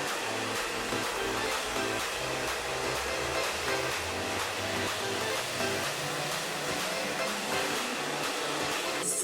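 A hair dryer blows steadily while curly hair is brushed smooth, its continuous close whooshing roar broken by faint rhythmic pulses from the brush strokes.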